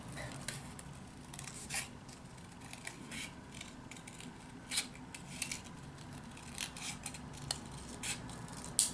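Scissors snip through paper to cut out a heart shape, giving soft, scattered clicks and crisp cuts over about nine seconds. The cuts are close but faint, with no talking.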